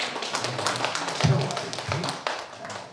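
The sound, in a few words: audience clapping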